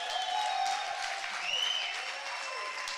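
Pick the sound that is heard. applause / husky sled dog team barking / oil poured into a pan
applause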